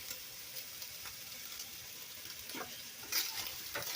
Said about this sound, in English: I can try to do two things at once and also stir the chicken